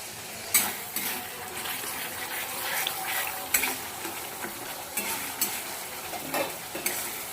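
Spiced masala for Bengali doi katla fish curry stirred in a pan once the lid is lifted, giving a soft sizzle under repeated sharp spoon scrapes and clinks against the metal, nearby and unaccompanied by talk.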